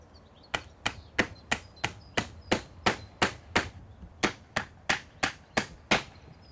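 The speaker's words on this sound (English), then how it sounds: "Nail this batten to the lintel, approximately 6 inches either side of centre." Nails are hammered into a wooden batten on a lintel as a long run of evenly spaced, sharp ringing blows, about three per second, with a brief pause midway, clear and alone.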